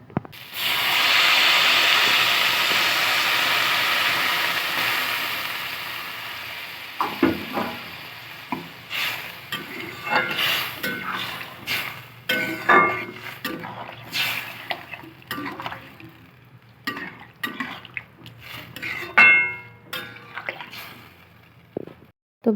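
Ground cumin and ginger paste frying in a pan: a steady sizzle at first, then irregular scraping and stirring of the spice paste with a utensil, close and loud.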